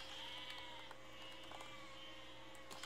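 Sheep bleating in the physics building game Besiege, harmonic bleats over a steady mechanical background hum, with a few short sharp clicks and thuds.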